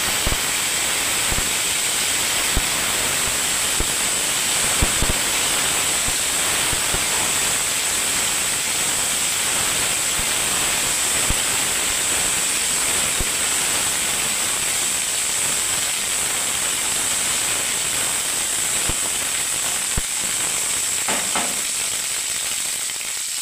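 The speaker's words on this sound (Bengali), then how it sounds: "এবারে বন্ধুরা আমি দেখুন ফুলকপিটাকে ভেজে নিচ্ছি।" Cauliflower frying in hot oil in a pan, a loud, steady close-up sizzle and hiss lasting throughout, with faint crackles and a brief utensil stir near the end.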